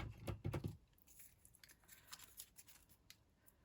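A few quick metallic snips and clicks of scissors being handled up close, followed by soft rustling and faint taps.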